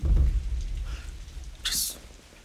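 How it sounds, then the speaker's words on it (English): A sound machine set to a rainy night ambience plays a steady wash of rain, with a brief bright hiss near the end, heard indoors at moderate level. "Why do you have it on rainy night at the Leaky Castle setting?"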